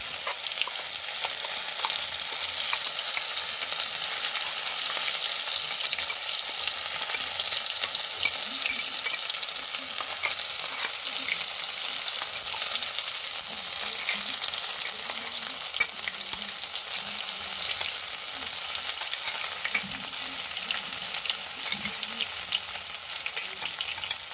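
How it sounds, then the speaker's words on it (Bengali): Green pea stuffing for kachori frying in a generous amount of hot oil in a pan over lowered gas, a loud, continuous close sizzle with light stirring scrapes throughout. "গ্যাসটা একটুখানি কমিয়ে আমি এখানে পুরটা দিয়ে দিচ্ছি, না তো ছিটকাতে পারে"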